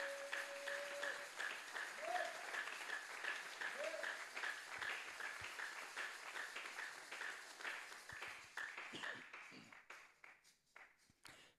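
A church congregation applauds for the Holy Spirit in a sustained burst of dense clapping that thins into scattered claps near the end, with voices faintly beneath.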